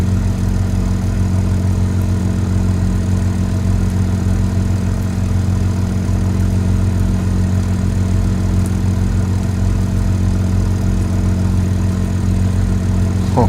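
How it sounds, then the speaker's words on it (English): A BMW 2 runs with a loud, steady low engine drone and a constant idle-like hum, unchanging throughout, with no voices. "I'm driving a BMW 2 and it's loud."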